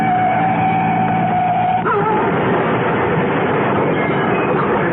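Radio-drama effect of a car crashing after being run off the road: a steady engine drone cut by an abrupt jolt, followed by a loud, rough rumbling noise that carries on to the end.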